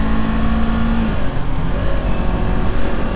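A Kawasaki Ninja 250 motorcycle's exhaust revs up as the bike accelerates, a steady, close engine drone with a brief rising tone partway through and no talking.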